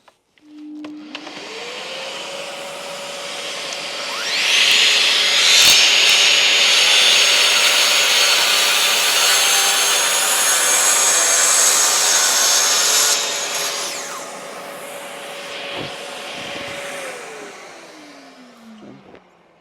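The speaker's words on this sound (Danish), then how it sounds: "det vi skærer i, det er jo en 38 mm massiv egetræs bordplade" A Festool TSC 55 KS battery track saw cuts through a 38 mm solid oak worktop with a dust extractor attached, the motor spinning up, then a loud steady rasping cut lasting several seconds before winding down.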